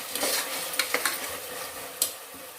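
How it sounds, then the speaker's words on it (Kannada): Tomatoes sizzle in a little oil in a pan for a peas pulao, with a loud, steady crackle and several sharp scraping clicks as they are stirred. "ಟೊಮೆಟೊನೂ ಅಷ್ಟೇ ಸ್ವಲ್ಪ ಎಣ್ಣೆಯಲ್ಲಿ ಚೆನ್ನಾಗಿ ಫ್ರೈ ಆದರೆ ಚೆನ್ನಾಗಿರುತ್ತೆ"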